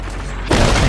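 A ship's cannon fires in Sea of Thieves, one deep, heavy boom bursting in halfway through after a quieter rumbling background.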